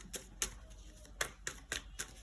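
Tarot cards are shuffled in quiet, crisp riffling bursts, about six short clicks spaced unevenly, close and soft with no talking.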